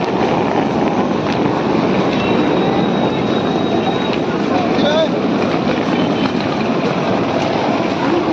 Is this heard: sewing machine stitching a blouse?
no